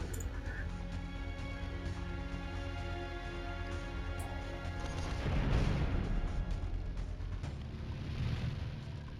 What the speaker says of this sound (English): that's not PPC, that's a torpedo.